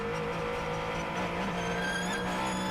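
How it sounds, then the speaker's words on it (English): A Jota WEC prototype race car at Sebring accelerating as its hybrid boost kicks in, a steady loud engine drone with rising whine through the turn, continuous and close with no talk. "Let's listen again, this hybrid boost."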